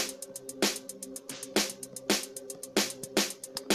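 Amapiano drum loop built in FL Studio Mobile, with crisp snares and hats cycling in a steady syncopated pattern, fairly quiet and with no voice over it.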